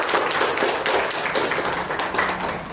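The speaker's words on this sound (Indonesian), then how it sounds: "Bagus, beri tepuk tangan." Classroom applause during a microteaching lesson, a dense run of many hands clapping at once, fairly close and steady for a few seconds with no talk.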